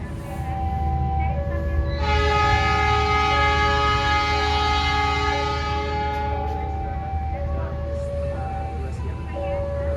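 An Argo Wilis passenger train departs Yogyakarta station at midday, a steady rumbling bed under a sustained multi-tone horn or whistle chord that sounds for several seconds, with faint talk nearby.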